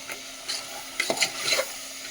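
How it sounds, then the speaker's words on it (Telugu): Ground masala of coriander seed, cumin, onion and tomato is stirred into a goat head curry in a pot, soft scraping and wet mixing strokes in short bursts over a faint simmer, no voice. "అది మొత్తం కలుపుకోవాలి."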